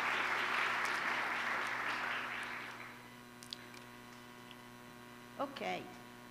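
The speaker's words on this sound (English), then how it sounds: "So I'd like to begin doing a big applause to all the colleagues that every year contribute to this wonderful team talk." Applause from a conference audience for colleagues: a wash of clapping that fades out over about three seconds, leaving a steady electrical hum and a brief voice near the end.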